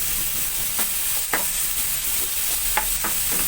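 Tomatoes frying in a pan for a tuna pasta sauce give a continuous close sizzle, broken by several scraping stirs of a utensil through the pan.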